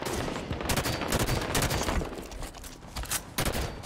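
Rapid gunfire in the video game Halo 5, dense overlapping bursts of automatic shots and loud cracks that continue without a break, close and heavy in the mix.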